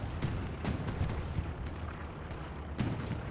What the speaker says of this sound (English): All explosions at the moment happening.